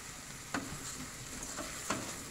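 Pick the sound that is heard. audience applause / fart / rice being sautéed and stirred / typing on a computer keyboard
rice being sautéed and stirred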